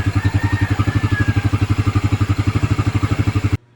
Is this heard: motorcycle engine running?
yes